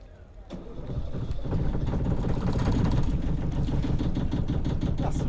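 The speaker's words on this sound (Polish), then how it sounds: "pierw odpalamy silnik i czekamy, aż się rozgrzeje" A yacht's inboard engine, said to resemble a T-34 tank engine, runs steadily at idle while warming up in neutral at the quay, a continuous low mechanical rumble with ticking, rising after a soft start.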